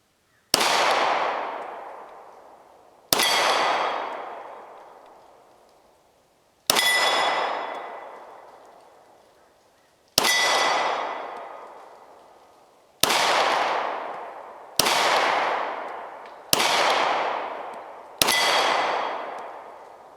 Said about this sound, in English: now let's see if I can't hit that red plate a little better with the Glock